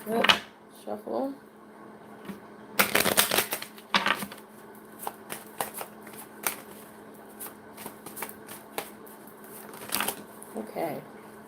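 Cards are shuffled in several crisp, rapid riffling bursts, close and fairly quiet, with soft handling noises between them.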